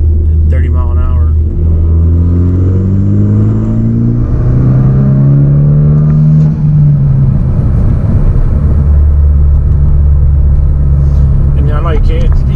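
A Hyundai Veloster Turbo at full throttle in third gear from about 30 mph, its engine droning and climbing steadily in pitch over several seconds, loud inside the cabin, then settling into a lower hum.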